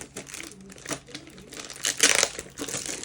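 Tape being peeled off the plastic packaging of a Beyblade X pack, giving a close crinkling and tearing rustle in uneven bursts, loudest near the end, while a person talks.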